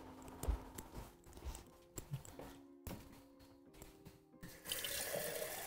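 Tap water runs into a kitchen sink, building to a steady, bright rush near the end after a stretch of quieter clatter and handling noises, with no talking.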